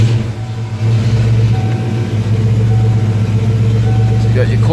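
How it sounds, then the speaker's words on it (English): A Saleen 88-556 car engine idles on a cold start at just over 1,000 rpm, not yet warmed up, giving a steady, loud, low hum throughout. "So you got your cold start there."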